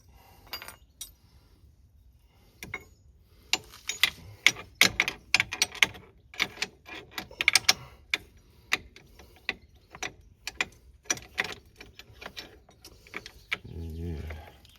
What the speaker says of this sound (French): on passe avec la clé à l'intérieur, la torx, et puis on est obligé d'avancer à la main